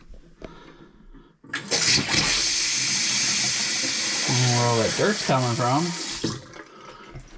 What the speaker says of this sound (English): water's coming out of there